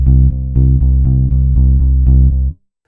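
EZBass virtual electric bass in an Americana style, played with index-finger plucks only: about nine even, deep notes in a steady pulse, close and solo, with a slightly firmer attack on some notes.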